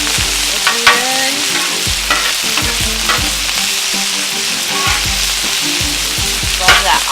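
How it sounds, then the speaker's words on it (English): Cajun pork tips and vegetables sizzle steadily in a hot pan, with a constant loud frying hiss broken by repeated scraping and stirring knocks from a utensil. "Love that awesome sizzle to everything."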